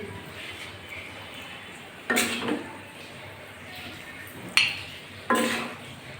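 Bottle gourd curry with lentil dumplings served onto a plate, three distinct clinks and scrapes of a spoon against dishware over a quiet kitchen background.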